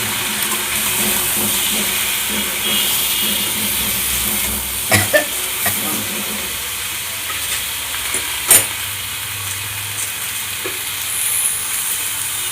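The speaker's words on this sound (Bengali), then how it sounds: "আর ভালো করে একটু ভেজে নেব" Vegetables frying in a pan for a Bengali hilsa fish dish with potato and eggplant, a steady loud sizzle and hiss throughout with a few brief clatters of stirring.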